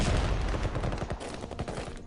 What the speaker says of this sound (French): à part un petit coup de canon là